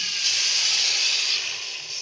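Spices and chicken stock roasting in a hot pan, giving a loud, steady hiss of sizzling that stays even and continuous with no voices.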